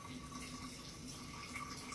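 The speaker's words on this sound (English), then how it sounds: "I'm going to take my water. I'm going to carefully pour it into my jar" Hot water poured slowly into a mason jar, a steady close liquid stream with a faint ringing tone throughout, no voices.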